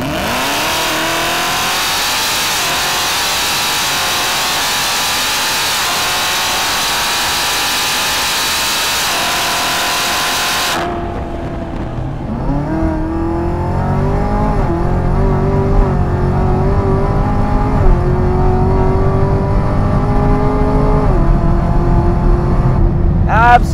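A 1,000-horsepower Hennessey Exorcist Camaro ZL1 Final Edition accelerates hard down the back straight of the Pennzoil Proving Ground test track, its engine roaring loudly and continuously, then the tone drops as it shifts and pulls on through rising gears.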